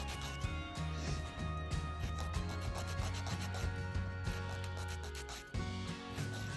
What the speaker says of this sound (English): file into your desired shape